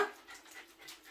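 A Jack Russell terrier gives a brief, faint, breathy whimper indoors. It comes in a few soft pulses over about a second, with no speech.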